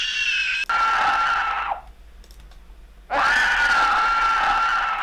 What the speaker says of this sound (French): Donc on se rapproche plus maintenant d'un cri de monstre de film d'horreur qu'on peut voir dans Scream ou d'autres.